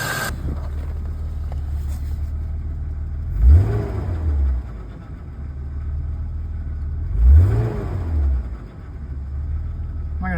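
A BMW E36 328i convertible, low on fuel and oil, idles steadily with a low rumble, then gets two brief blips of the throttle a few seconds apart, each rising and settling back to idle.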